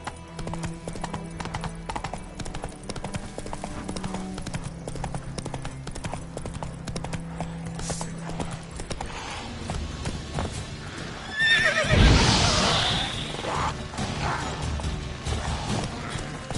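The horse Roach in the video game Witcher 3 gallops with rhythmic hoof clip-clops throughout, neighs once, and gives a louder burst of movement near the end.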